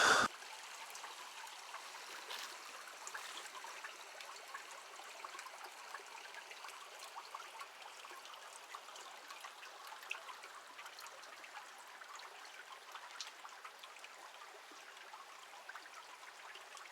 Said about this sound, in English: I'm at my second creek crossing